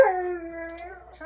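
A husky puppy lets out a single drawn-out, wavering howl heard through a baby monitor, thin and tinny, tapering off over about a second.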